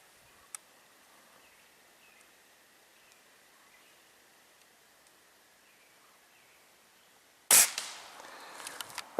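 Rifle fired during outdoor target shooting from the prone position: quiet open-air ambience with a faint tick early on, then one sharp, loud, close report near the end followed by a brief rattling tail.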